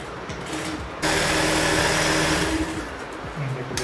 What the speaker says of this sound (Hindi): सबसे पहले हम इसका साइड का जो सिलाई होता है वो हम लगाएंगे इस तरीके से